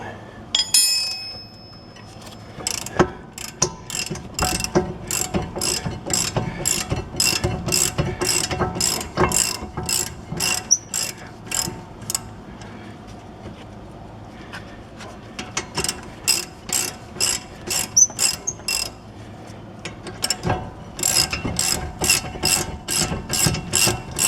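Ratchet wrenches work loose the rear brake bolts on a Chevy Trax. The close, crisp clicking comes in repeated runs of rapid ratcheting, separated by short pauses and faint metallic clinks.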